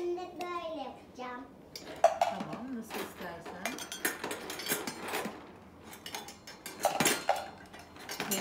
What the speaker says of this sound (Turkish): Tencerelerini de güzel dizip yemek yapmayı hazır hale getir.